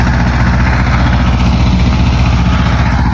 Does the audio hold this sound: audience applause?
no